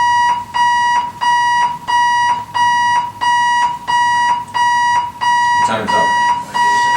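An alarm sounds in a meeting room, a loud electronic beeping in regular repeated bursts of about half a second, steady throughout, with a brief voice cutting in near the end.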